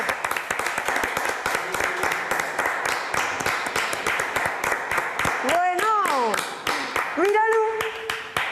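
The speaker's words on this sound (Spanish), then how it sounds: "vamos a llamarlos con un aplauso" Rhythmic clapping from a village crowd at a local fiesta in Les Pieces, Langreo, Asturias, steady hand-claps in a brisk beat with voices calling out and rising sung or whooped tones over the claps near the end.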